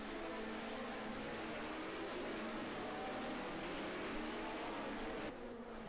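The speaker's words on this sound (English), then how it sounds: "you can see all the other cars filing through as the track snakes back and forth" Several 1974 Formula One cars race at Interlagos in a racing video game, a dense, steady, buzzing engine drone from multiple cars held at constant loudness with a slight shift near the end.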